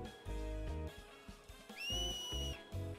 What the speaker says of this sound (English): He whistled.